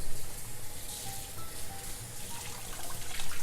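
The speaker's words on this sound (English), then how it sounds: "I'm actually going to take a paper towel and I'm going to wet it." Tap water runs steadily from a kitchen faucet onto a paper towel, a soft continuous splashing hiss at low level with no voices over it.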